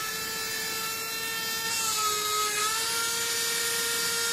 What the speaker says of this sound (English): And of course a small drill.